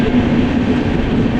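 A passenger train running on the line past Coimbatore North toward Mettupalayam, after an engine change, gives a steady, close rumble of wheels and carriage with no clear breaks.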